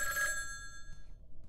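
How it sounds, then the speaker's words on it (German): Telephone bell rings in the video game Obscuritas, a bright electronic trill with steady harmonic tones that sounds once, holds for about a second, then fades out, with no talk over it. "Telefon klingelt."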